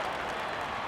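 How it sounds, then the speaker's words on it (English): A crowd applauds in the London 2012 video game, a dense, loud wash of clapping and cheering that fills the whole brief moment. "The crowd go wild and they respond."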